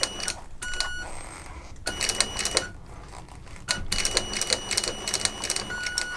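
A sewing machine stitches a leather bag, running in fast rattling bursts with short stops and restarts while the work is turned around corners.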